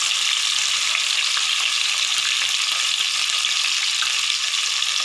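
Garlic frying in hot oil for sambar makes a loud, dense, continuous sizzle heard up close, with no voices over it.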